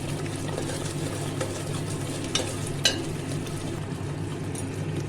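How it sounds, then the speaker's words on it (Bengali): Thick spiced paste (masala) for a coconut-milk catla fish curry frying and bubbling hard in oil, stirred nonstop; a steady close sizzle with light scraping and a couple of sharper clinks, no talk. "আর আমি খুব ভালো করে মশলাটা কষাবো তেল ছেড়ে যাওয়া অবধি যেহেতু খুব ফুটছে ওই জন্য অনবরত হাতটা নাড়িয়ে যেতে হবে"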